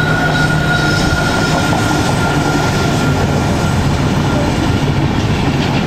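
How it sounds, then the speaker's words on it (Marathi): A Vande Bharat express train rushes past near the Karjat route, a loud continuous roar of wheels and rail noise with a faint high squeal, filling the whole stretch without pause. "एक डब्बा वंदे भारत चालवला असं वाटतं. अशी गेली ना वाकडी असं वाटतं पडेल या साईडला"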